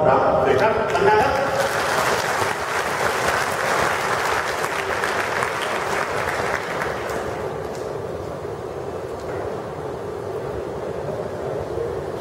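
An audience claps loudly to welcome the next team at a sport dance show. The applause is dense and sustained, easing slightly over time, with voices mixed in.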